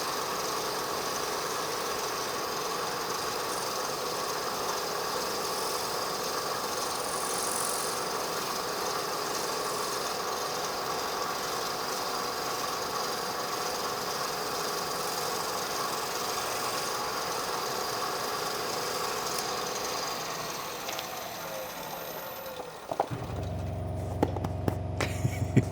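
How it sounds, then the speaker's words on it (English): A workshop air compressor hums in a steady, droning run for most of the stretch, then winds down and cuts out near the end, leaving a few scattered knocks. "it's the compressor"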